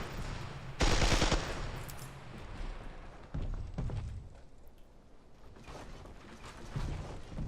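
Burst weapon firing in a building shooter game, one loud, sharp burst followed by fainter scattered shots and building thuds at a distance, with a quiet stretch between them.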